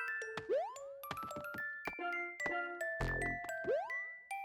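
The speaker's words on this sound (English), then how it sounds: "The way that the poison mushroom sounds when it hits the note block." Video game chiming from a poison mushroom striking a note block: a run of bright, bell-like dings and tinkles with springy bouncing tones and a deeper thunk near the middle, crisp and close with no voices.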